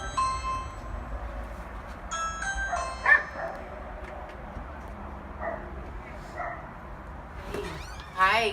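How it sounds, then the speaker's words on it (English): Dogs barking and yipping in the distance, faint and intermittent beneath a steady background hum, with occasional tonal chimes. "as you can hear, the dogs are barking in the background"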